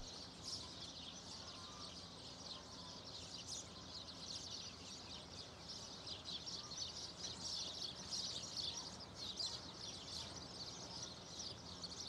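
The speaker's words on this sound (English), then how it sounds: "Birds that fly off." Birds call and chirp across an open rural landscape, faint scattered tweets over a steady wash of outdoor ambience with no talking.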